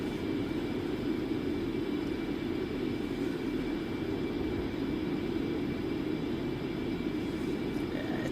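Concorde jet engines in a flight simulator game make a steady, loud, unbroken airplane roar with a broad hiss, constant and unchanging throughout, with no talk over it.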